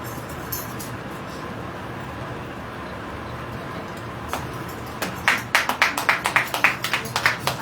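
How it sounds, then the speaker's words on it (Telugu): A congregation at a Good Friday service breaks into applause, the scattered claps building into a steady rhythmic clapping over a room hum. "అందరూ చప్పట్ల కొడుతూ ఇద్దాము"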